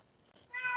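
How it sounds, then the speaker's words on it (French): A house cat meows once in the background, a short, faint but clear cry rising at the end of an otherwise quiet moment. "c'est mon chat qui fait du bruit en arrière"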